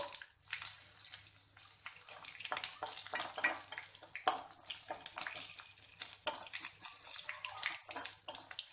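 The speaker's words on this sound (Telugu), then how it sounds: "ఇది కూడా బాగా మనము ఫ్రై చేసేసుకుందాం వెల్లుల్లిపాయని" Crushed garlic and a dried red chili fry in hot oil with popping mustard seeds, giving a steady, close crackle and sizzle with occasional stirring taps throughout.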